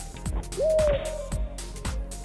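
A comical hooting bird cry used as a hit sound in a platform fighter video game, one rising then sustained whistle-like hoot over scattered thuds and impact noises of combat.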